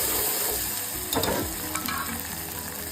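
Steady sizzling and frying of a tempering in a pan, with a sudden burst of crackle as khichdi dal lentils are dropped in, then continuing sizzle and stirring.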